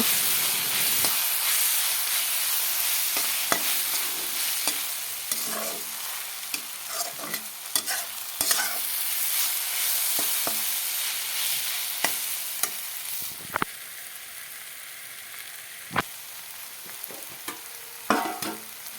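Potatoes and onions fry in a pan with a steady, soft sizzle and hiss. Frequent sharp scrapes and clacks of a stirring utensil against the pan break through at irregular intervals, close up and with no talking.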